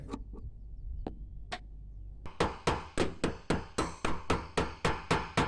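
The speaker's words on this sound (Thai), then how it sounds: "ค่อยๆเคาะให้สุดเลย" Sharp knocks on a glued 2-inch plastic pipe fitting on a water tank valve, a few scattered at first, then a steady, evenly spaced series of firm taps, close by.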